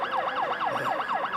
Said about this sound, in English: The sirens are getting louder.